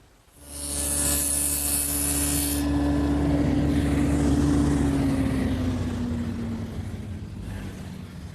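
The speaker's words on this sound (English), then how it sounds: "I'll make that cut over on the table saw." A table saw spins up and cuts a shallow rabbet along the edge of a wooden panel for a Shaker woodbox, a loud steady whine that sags slightly under load and then runs on.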